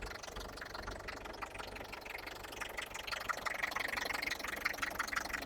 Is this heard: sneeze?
no